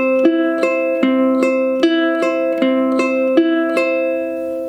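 Ukulele fingerpicking pattern for a song at song tempo: a steady, evenly spaced run of plucked notes with ringing overlapping sustain, close and clear, with no voices.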